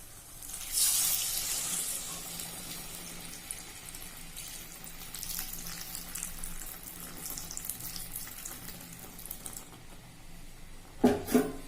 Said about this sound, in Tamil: இப்போ இது கூட புளித்தண்ணி விட்டுக்கலாம்.